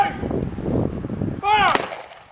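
An honor guard rifle volley at a September 11 memorial ceremony honoring Flight 77 at the Pentagon: one sharp outdoor crack with ringing echo follows a shouted command.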